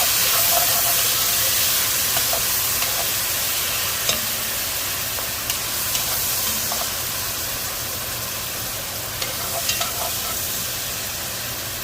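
Three teaspoons of minced garlic sizzle steadily in a hot pan for a dish of braised short ribs, a continuous frying hiss with occasional soft stirring scrapes and small pops, close and alone without voices.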